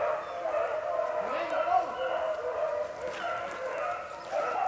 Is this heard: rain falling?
no